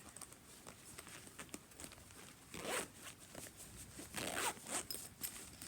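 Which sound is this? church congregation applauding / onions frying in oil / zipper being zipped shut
zipper being zipped shut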